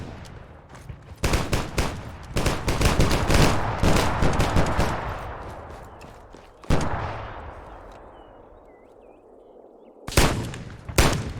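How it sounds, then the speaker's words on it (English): Anti-material rifle firing at an outdoor weapon test range: a string of loud, booming shots in quick succession, each with a long rolling echo, followed after a pause by two more heavy blasts. "This is an anti-material rifle."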